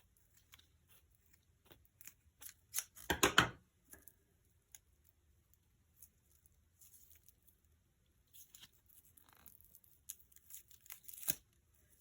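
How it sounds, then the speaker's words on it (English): Paper is pulled and ripped off a patriotic wreath with a bow and star pick: scattered short tearing rips and crinkles, one loud sustained tear midway, then quieter bursts near the end, close up with no talking. "We're gonna go in here and we're gonna pull off the paper"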